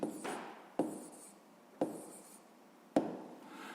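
A pen writes on paper in a quiet room, with four sharp stroke onsets, each followed by a brief scratchy drag, spaced roughly a second apart.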